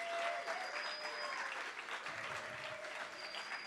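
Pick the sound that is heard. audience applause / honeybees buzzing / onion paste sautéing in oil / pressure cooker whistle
audience applause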